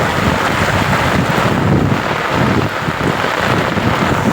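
Heavy rain roars continuously with strong wind buffeting the microphone, a dense, loud rushing wash with no voices.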